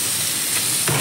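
Raw jackfruit hits hot oil and spice paste in a pan, giving a close, steady sizzling hiss with a sharper crackle near the end and no voices.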